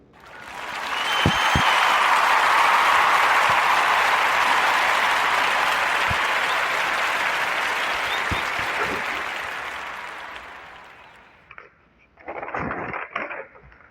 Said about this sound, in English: Give a warm narrative round of applause for Chef Dennis Williams at Lead Crate